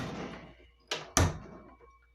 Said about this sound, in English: As they walk out the door,